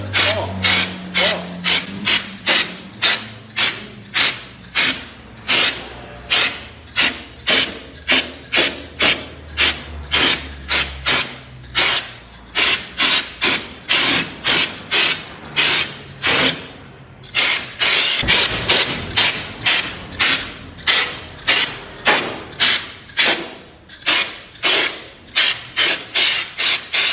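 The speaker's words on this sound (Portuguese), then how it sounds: "Nós já vai precisar dessa pistola aqui pra poder aplicar" Spray gun applying diluted KPO product inside a car, heard as a steady series of short bursts of spray or pumping at a regular rhythm of about two per second, close and fairly loud, with no talk.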